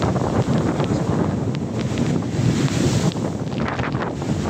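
Strong wind buffets the microphone in a steady roar, with rough sea surf churning underneath at Real, Quezon, loud and continuous without any voices.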